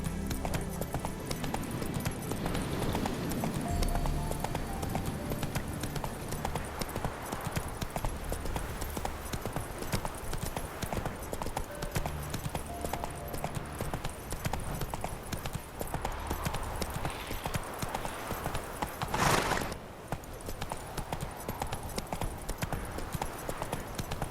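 Steady, rapid clip-clop of horse hooves galloping at close range in The Witcher 3 video game, continuing unbroken over a low background bed, with one brief louder thump near the end.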